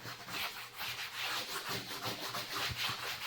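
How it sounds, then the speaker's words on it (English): A leather belt is sanded by hand with 80-grit sandpaper on a board. Close, rhythmic back-and-forth scratchy rubbing strokes repeat quickly and continue without a pause. "So if you wanna put some scratches in it now, this is just 80 grit on a board."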